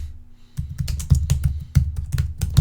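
Rapid keystrokes on a computer keyboard as a name is typed into a form, close and crisp, with clicks in quick irregular bursts after a short quiet start and no voices.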